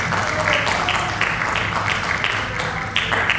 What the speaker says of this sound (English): Let's give a round of applause for Luke St.